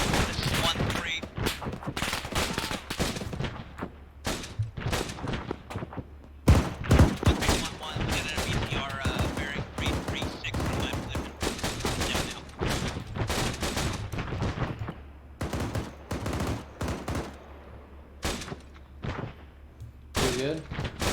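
Sustained gunfire in the military shooter game ArmA 3, with rapid bursts and dense fusillades of shots, some loud and close and others more distant, running almost continuously while radio-style voices talk over it.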